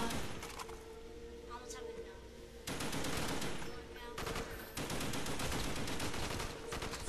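Rapid bursts of machine gun fire from Call of Duty: Black Ops zombies on the Der Riese map, loud and dense, with the shooting intensifying in the second half and speech faintly under it.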